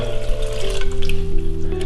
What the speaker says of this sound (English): we'll just tip some more hot water in there.